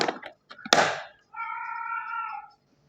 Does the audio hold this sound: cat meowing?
yes